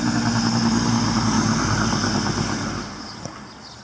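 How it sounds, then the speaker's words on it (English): A loud truck engine rumbles nearby, strong at first, then fading and receding over the last second or so. "A loud truck."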